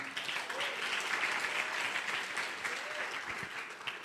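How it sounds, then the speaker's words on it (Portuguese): Congregation in a church applauding after a sermon point, a continuous crowd of clapping hands heard from a distance, with faint voices mixed in beneath the steady applause. "Então dá um aplauso aí, um glória a Deus, vai."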